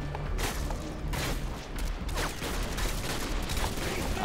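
Dense, continuous gunfire in Call of Duty MW2, with rapid overlapping shots and bursts of automatic fire that stay loud and close for the whole stretch, with no pauses between volleys.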